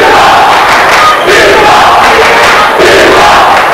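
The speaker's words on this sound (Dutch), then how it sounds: "En het Limburgse publiek geniet." A home crowd at a 1995-96 Belgian basketball league game in Houthalen, Limburg, roars and cheers continuously through the arena, loud and sustained with a brief dip midway.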